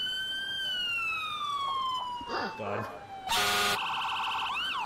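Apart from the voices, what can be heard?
ambulance siren and air horn in Emergency 4 video game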